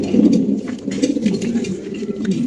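Lahori pigeons at a large fancy-pigeon farm coo loudly and continuously, several birds overlapping in a dense, throaty rumble close by.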